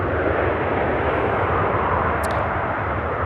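An airplane arriving at Charlotte Douglas airport from Bentonville, Arkansas, produces a steady, broad jet roar that fills the whole clip at a moderate distance.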